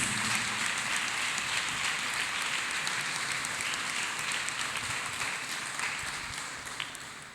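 A church congregation claps hands together, a dense, steady wash of clapping that carries on for several seconds and fades slightly toward the end, with no voices over it.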